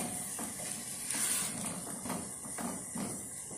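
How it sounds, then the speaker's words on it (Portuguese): Pork ribs sauté in a pan for canjiquinha, a steady close sizzle with soft stirring scrapes, no voices. "Agora vamos refogar bem para estar acrescentando o restante dos ingredientes"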